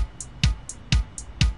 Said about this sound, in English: So without this thing, our kick sounds like this.